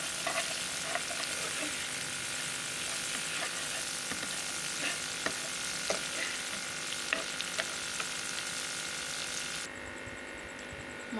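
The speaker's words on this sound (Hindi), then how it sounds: "ये तड़का बना रही हूँ" Garlic and ginger sizzle steadily in oil for a daal tempering, with a constant crackling hiss punctuated by occasional stirring clinks, close and continuous without talk.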